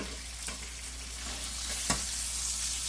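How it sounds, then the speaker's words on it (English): Food sautéing in an oiled pan, a continuous bright sizzle with a couple of soft scrapes of stirring, fairly close and steady throughout. "Go ahead and get them in there. And get them nice and sauteed."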